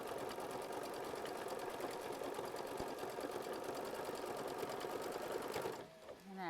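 Sewing machine stitching leaf shapes onto green fabric for a quilt block, a steady fast mechanical whir and rapid needle clatter, close and even, stopping near the end as a voice begins to talk.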